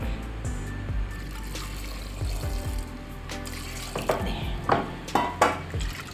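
Water poured into a pressure cooker of washed tapioca with turmeric, splashing and gurgling close by, with a few clunks and sloshes as the pot is handled.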